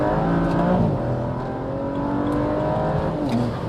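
BMW 335i with the N54 engine and a limited-slip differential launching hard from a rolling start, a loud close engine roar climbing in pitch with tyres spinning up, no voices over it.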